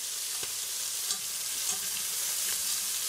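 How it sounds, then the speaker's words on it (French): Chicken pieces with onions browning in olive oil in a pan, giving a steady close sizzle with a few light stirring scrapes and no voices. "On fait revenir le poulet, des oignons, un peu d'huile d'olive, et il commence à colorer."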